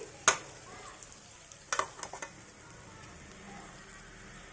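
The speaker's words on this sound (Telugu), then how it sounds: "ఈ గ్రేవీలో ఉన్న వంకాయలు వేసేయండి. ఇప్పుడు ఈ ఆయిల్లో బాగా ఫ్రై అవ్వాలి." Stuffed eggplants frying in oil in a pan make a soft, low sizzle, broken by a few sharp utensil clinks and taps from stirring, fairly quiet and without talk.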